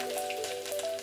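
Garlic dropped into hot oil with mustard seeds and cumin for a dal tempering, sizzling and frying steadily at close range, a bright continuous crackle with a high whine running through it.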